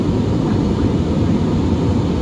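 An airplane taking off, heard from aboard as a loud, constant broadband roar with a deep rumble underneath, unbroken from start to finish.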